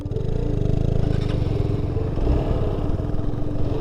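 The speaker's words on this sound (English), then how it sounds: "we are riding these routes with our bikes fully loaded with luggage." Loaded adventure motorcycle riding the Windmill Trail in Karnataka, a steady, close engine drone with rattling and scraping of luggage over rough ground, continuous throughout with no pauses.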